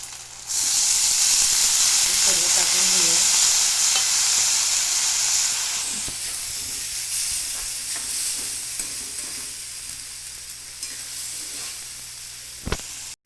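Cumin and soaked wheat kurdai sizzle loudly in a hot pan, a dense continuous frying hiss with brief stirring, fading slightly as it settles, ending with a sharp clink.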